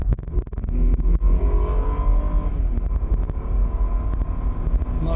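An Opel Omega engine in sport mode rumbles inside the car with a deep, steady drone and rising revs, interrupted by sharp clicks and knocks, close and loud with no talk.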